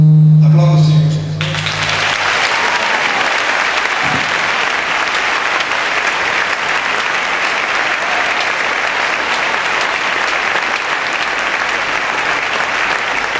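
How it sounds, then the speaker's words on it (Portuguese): After a brief spoken phrase, a church congregation at an evangelical cathedral breaks into loud, dense, sustained applause that carries on evenly to the end. "Aplauda o Senhor, Jesus."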